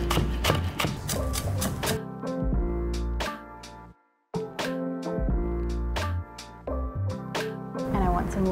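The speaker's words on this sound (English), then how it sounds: "whenever I want a really fine slice on my spring onion, I always thin them out a little at the ends here" A knife finely slices spring onion on a board with quick, regular taps, heard under a person talking and background music.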